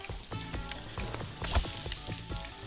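Steak sizzling on a grill in the cooking video game Cook Serve Delicious 2, a steady, close frying hiss with crackly pops and bright interface blips layered over it, no voices.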